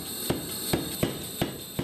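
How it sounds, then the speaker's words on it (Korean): A hammer forges a Damascus steel knife blade, with five evenly spaced metallic strikes about every 0.4 seconds ringing out over a steady background hum. "망치 소리가 굉장히 큰데"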